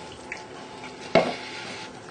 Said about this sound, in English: I'm just going to scrape my spoon again.